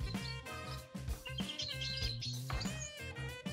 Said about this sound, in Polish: To są takie ptaszki, które ja sobie noszę tutaj w drugim telefonie, je tutaj włączam